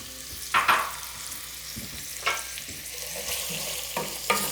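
Medium sliced onion, half of one, cooking in a pan with a little garlic, a steady soft sizzle broken by a few stirring scrapes and clatters, moderately quiet with no talking.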